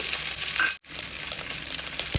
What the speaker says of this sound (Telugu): పోపు ఇలా వేగిన తర్వాత కరివేపాకు కూడా వేసుకుని